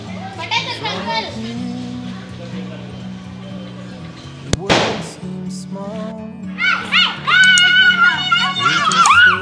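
On Christmas Day, children shout and play outdoors while a single sharp firecracker bang cracks out midway, loud and brief amid the chatter.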